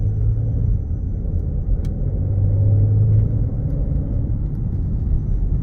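A 2018 Maserati Ghibli with 61,279 miles cruises on a test drive, its engine and road noise forming a steady low rumble from inside the cabin, with no talk.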